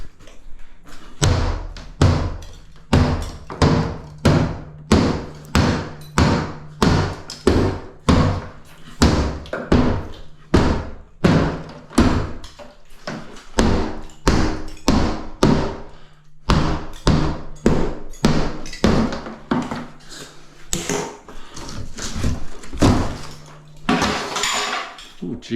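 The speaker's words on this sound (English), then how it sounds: "Okay, where's my hammer?" Heavy hammer blows during a bathroom strip-out, delivered as a long run of loud, rhythmic strikes about two per second, with clattering debris between hits and a brief pause near the end.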